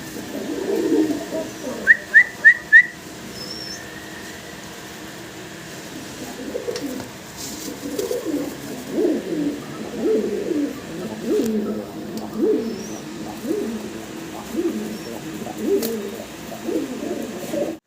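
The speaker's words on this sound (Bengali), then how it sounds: "আপনারা এক পেয়ার গররা কবুতর দেখতে পারতেছেন" A pair of fancy Gorra pigeons cooing nearby in repeated low throaty phrases, preceded by a few sharp bright chirps from another bird, with faint background bird calls.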